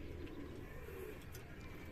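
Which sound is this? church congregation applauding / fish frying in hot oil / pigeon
pigeon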